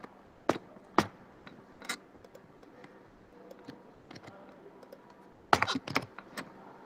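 Sparse keystrokes on a computer keyboard while entering a break statement in switch-case code, scattered single taps with a quick cluster of clicks near the end, fairly close and clear with no talking.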